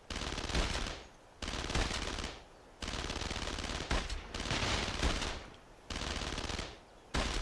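Gunfire in the video game Brothers in Arms: Road to Hill 30 on PS2, loud machine-gun bursts alternating with brief pauses, repeated volleys running nearly throughout.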